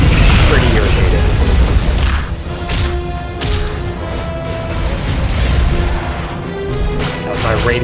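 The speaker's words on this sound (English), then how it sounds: "That was my radial explosion" A radial explosion attack from the monster Preytor in the War of the Monsters video game, a dense, loud booming blast with crashing debris and whooshes, sustained over several seconds amid tonal game music.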